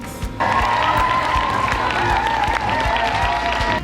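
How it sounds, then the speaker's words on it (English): Elementary students loudly clap out classmates heading to the Special Olympics, dense rapid applause mixed with cheering and children's shouts filling a school hallway, sustained for a few seconds after a brief quieter start. "This week we clapped out our classmates that are going to the Special Olympics."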